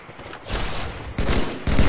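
Rapid gunfire from the Halo 3 video game crackles in dense bursts, loud and close, growing heavier toward the end with a sharp new volley at the close.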